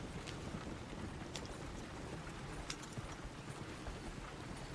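Horse hooves clip-clopping in Red Dead Redemption 2 as a rider steers along a road, soft irregular hoof clops faint under a constant rushing ambient bed.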